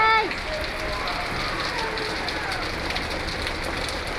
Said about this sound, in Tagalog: Nag-hailstorm po dito sa Lebanon, sa lugar namin. Sobrang lamig po. Ayan, umuulan.